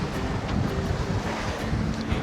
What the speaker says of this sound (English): Now the wind, we got a burst of wind right now.